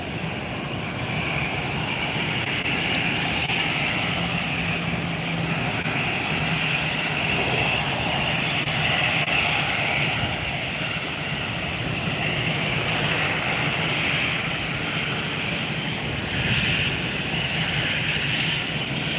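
A Delta A321 airliner taxiing at Fort Lauderdale airport, its steady, loud jet engine roar and whine filling the scene without a break. No voices are heard.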